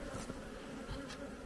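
Dense honeybees packed onto hive frames, with polystyrene boards fitted to crowd them together, give a steady, close insect hum that carries on without pause.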